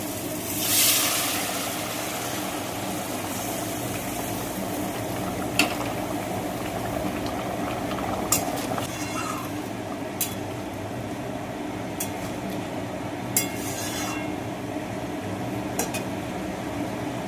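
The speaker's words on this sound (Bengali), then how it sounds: "তো দেখো কিন্তু আমার ঝোল একদম ফুটে গেছে" Potato curry broth for a catla fish dish boils in a pot with a steady low bubbling, punctuated by occasional sharp metallic clinks of a utensil against the pot.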